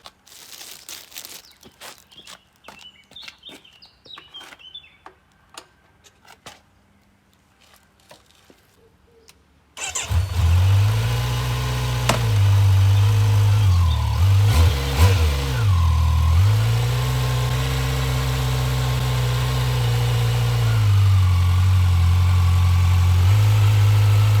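A 2018 Kawasaki Z900 motorcycle fitted with aftermarket accessories: handling clatter and small clicks, then the engine starts abruptly, revs briefly and settles into a loud, steady idle close to the microphone.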